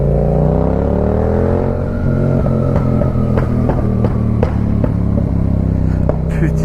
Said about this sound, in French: Petit échappement du Seigneur